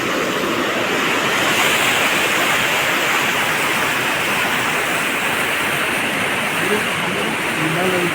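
Devkund waterfall in Odisha, a steady loud roar of rushing, crashing water that fills the whole stretch without pause, with faint voices beneath.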